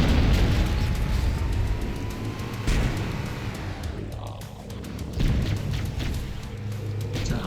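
Loud, rumbling explosions in the video game Halo Combat Evolved, with deep booming low end and a sustained roar that swells again near the three- and five-second marks, dense and continuous throughout.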